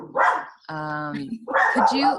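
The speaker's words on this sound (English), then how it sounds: "my dog is losing her mind" A dog barks and whimpers in a home during an online Q&A, one drawn-out whining yelp between short barks, close and loud, mixed with a person talking.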